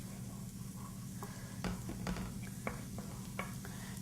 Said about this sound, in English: I'm going to saute these finely chopped shallots for a few minutes